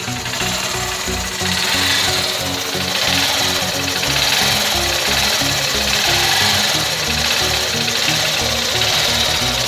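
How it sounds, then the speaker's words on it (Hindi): A 2018 Honda Shine SP motorcycle's single-cylinder engine idles close by, a steady rapid mechanical thrum with an even pulsing beat that continues unbroken throughout, fairly loud with no speech over it. "मेरा इंजन की जो साउंड क्वालिटी काफ़ी स्मूथ है आप देख पा रहे होंगे।"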